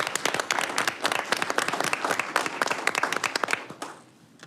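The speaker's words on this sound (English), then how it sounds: "one more round of applause for them" A round of applause at a board of directors meeting, crisp individual claps from a modest room of people, steady then thinning out and fading at the end.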